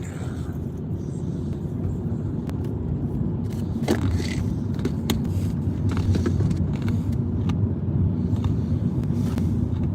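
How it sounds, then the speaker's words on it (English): A car sits stuck in rainy traffic, with a steady low engine and road rumble, faint hiss and occasional small knocks and scrapes throughout, no voices. "We're stuck in traffic"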